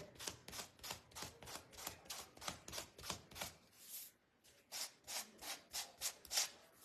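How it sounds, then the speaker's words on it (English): A small wooden mini kitchen hutch craft piece is hand-sanded in quick, rhythmic rasping strokes, about a dozen in a row, then a brief pause before another burst of strokes, quiet and close. "I'm gonna sand it."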